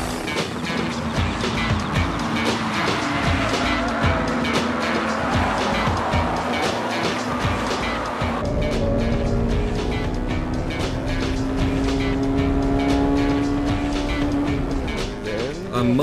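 Honda Civic Type R racing engine howling continuously at high revs close by, with clear shifts and rising pitch sweeps while it chases an Integra and a Celica, faint other cars and tire noise underneath.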